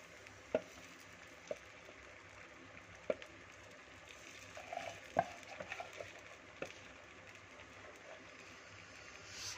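Paniyaram batter goes into a hot pan and sizzles quietly, with a low frying hiss underneath and a few sharp clinks and taps scattered across the stretch.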